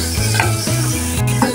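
Curry leaves and crushed garlic sauté in hot oil in a pan, a steady close sizzle with rhythmic scraping stirs about every half second and a sharp clink near the end.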